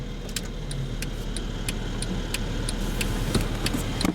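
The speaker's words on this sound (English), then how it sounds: "I'm gonna go ahead and turn on the lights and the hazards" Hazard lights on a car with an automatic shifter, ticking in a steady, evenly spaced rhythm over a constant low idle hum inside the cabin.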